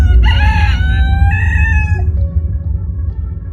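A rooster crows once, loud and close, its long strained call rising and then trailing off over a low rumbling background.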